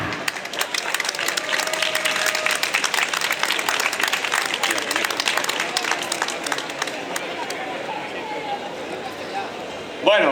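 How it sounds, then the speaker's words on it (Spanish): Audience applause for a union general secretary at a May Day event, a dense, steady patter of many hands clapping for about ten seconds, with some crowd noise mixed in and a brief louder burst at the end. "Dar un fuerte aplauso a Paco García."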